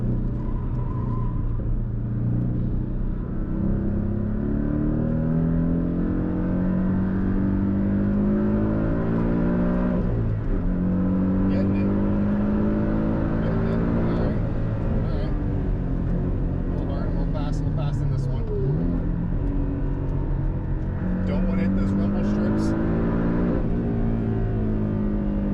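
A Porsche 718 Cayman S is driven hard on a race track, its engine droning loudly as the revs climb and drop repeatedly through shifts, with someone talking over the continuous roar.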